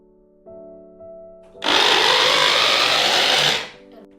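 An electric chopper finely minces keema for kofta, whirring at full power for about two seconds after a short hum, then cutting off abruptly.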